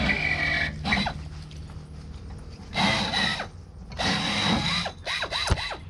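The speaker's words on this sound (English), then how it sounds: "So basically drilling all these rivets out." A power drill bores rivets out of a school bus in bursts, with high whining runs separated by pauses and background clatter, in a reverberant work space.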